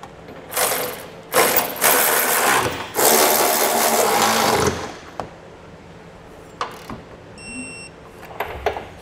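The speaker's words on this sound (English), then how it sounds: "we're gonna take a 19 millimeter socket, we're gonna tighten and torque everything down" A power tool fitted with a 19 mm socket tightens trailer hitch bolts on a 2021 Lexus NX 300 in several loud mechanical bursts of whirring and ratcheting, followed by quieter clicks, a few sharp taps and faint beeps.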